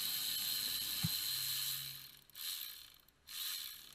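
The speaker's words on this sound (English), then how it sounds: "Take out the 4 inverted Torx bolts." Faint ratchet clicking while removing inverted Torx bolts from the intake manifold of a 2002 Mercedes C320, quiet mechanical ticks and a short low whir over steady background hiss, with no talking.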